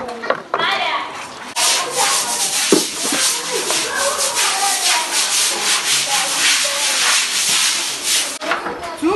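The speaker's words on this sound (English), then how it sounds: "Yeah, they're scrubbing." Scrubbing in a classroom at an orphanage facility, a loud, close, continuous rough rubbing and brushing with steady strokes, broken by a few short pauses and knocks.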